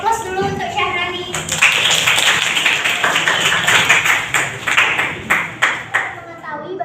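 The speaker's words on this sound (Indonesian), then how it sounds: "Beri aplaus dulu untuk Syahrani." Students in an Indonesian biology classroom break into applause, a burst of many hands clapping that starts after a brief moment and carries on steadily, with some children's voices mixed in.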